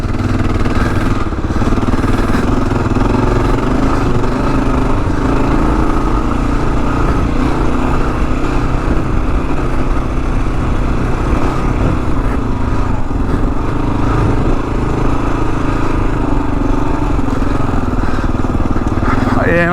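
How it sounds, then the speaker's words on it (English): A big heavy new Kawasaki KLR motorcycle ridden through desert sand, its single engine droning steadily and loudly throughout, with wind rush and a rider talking over it. "taking a big heavy bike through the sand"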